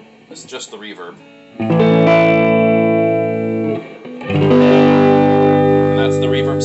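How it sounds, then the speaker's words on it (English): Sustained electric guitar chords ringing through a 1967-1968 Gibson Medalist 4/10 amplifier with reverb at maximum, two long strummed notes washing out into a lingering tail. "And that's the reverb set at 12."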